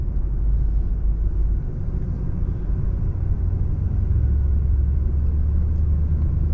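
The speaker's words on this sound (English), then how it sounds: "That way you guys can listen to the car." A 1975 Oldsmobile Cutlass S engine runs at a steady idle, giving a deep, continuous rumble that stays close and even throughout with no voices over it.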